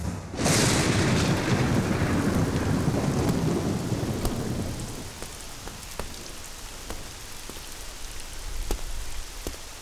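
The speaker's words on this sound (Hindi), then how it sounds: "ऊपर से ये बारिश नहीं रुक रही" Heavy rain pours down steadily, opening with a deep rolling rumble of thunder that fades into a dense hiss of rainfall with sharp drips striking a surface nearby.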